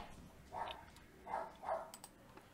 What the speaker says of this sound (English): my dogs, of course, I'm making a video, they start barking